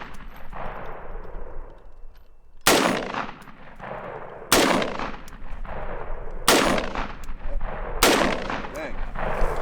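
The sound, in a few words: gunshots fired at targets with a reflex sight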